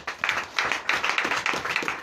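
Church congregation at a Sunday worship service in Benin clapping in a quick, steady rhythm, a close burst of applause with no voices over it.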